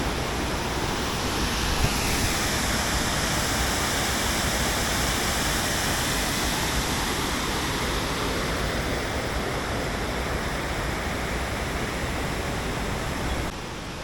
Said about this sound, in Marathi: तिथे तुम्हाला या पाण्याचा फक्त आवाज येत असेल.